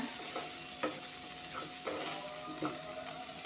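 Pieces of raw jackfruit sizzle softly in hot oil in a pan, with a steady low frying hiss broken by a few scraping stirs at regular intervals.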